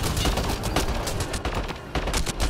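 Rapid bursts of gunfire from the video game Mass Effect, loud and continuous, with dense overlapping shots and automatic volleys throughout.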